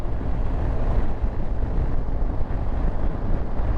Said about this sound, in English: Still feels loud, and I'm still getting the wind hit me at around the I'd say just above the visor